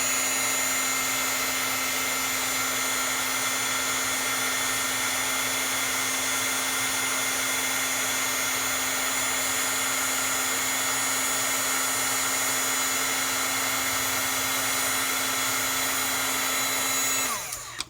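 A heat gun blows steadily with a constant whirring hum while heat-setting embossing powder on a shaped card, close and loud for the whole stretch, then switching off abruptly at the end.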